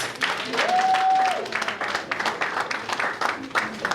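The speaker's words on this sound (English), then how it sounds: "Another round of applause for the president" An audience at a Ghana Musicians Union inauguration applauds the president with a burst of many hands clapping, an exclamation rising over it early on, then the clapping continues in uneven waves under scattered voices.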